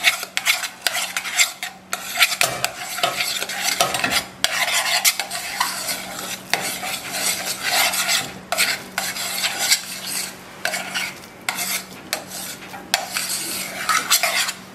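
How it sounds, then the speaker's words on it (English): Egg yolk stirred by hand into warm cherry dumpling dough for German cherry and dumpling soup, a steady, close scraping and clinking of utensil against pot that runs continuously with no voices. "we'll stir in the egg yolk"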